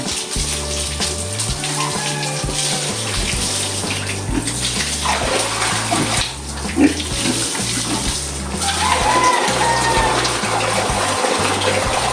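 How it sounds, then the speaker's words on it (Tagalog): Water gushes steadily from a tap into a pigs' drinking trough for a long stretch, a constant splashing rush with a rhythmic low mechanical thumping underneath. "Nagyan natin ng tubig ang kanilang inuminan"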